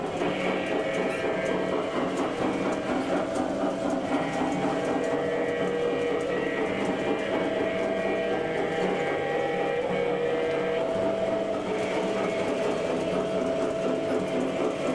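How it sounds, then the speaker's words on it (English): A model diesel train's motor whirs and clatters steadily along its track, a continuous close mechanical buzz with faint tonal hums layered over it. "Diesel's coming around the corner now."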